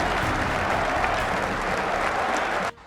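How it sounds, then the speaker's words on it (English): A whole football stadium crowd applauding an injured player, a dense, loud wall of clapping that holds steady, then cuts off abruptly at the end. "he had to be rushed to the hospital while being applauded by the whole stadium"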